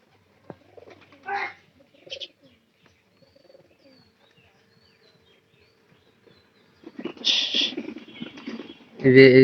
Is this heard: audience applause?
no